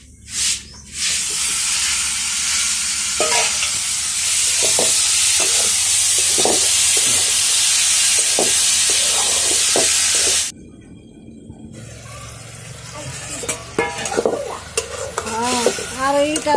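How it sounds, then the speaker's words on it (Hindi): Onion, garlic and chili frying in mustard oil on a wood-fired clay stove, a loud dense sizzle with stirring that stops abruptly, followed by quieter household clatter and faint voices. "यहाँ पे डाल चुकी है प्याज, लहसुन और मिर्च, और साथ में हल्का सा सरसों का तेल"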